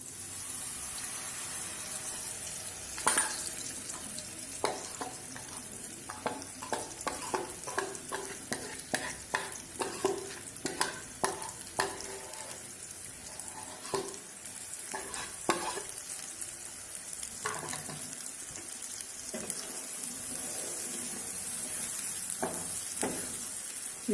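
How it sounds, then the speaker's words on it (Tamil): Papaya puree sautés in ghee in a pan, a continuous sizzle overlaid by a long run of sharp scraping stirs and clatters that come in bursts through the middle, loud and close. "அந்த நெய்யில் நல்லா நம்ம வதக்கி எடுக்கணும்"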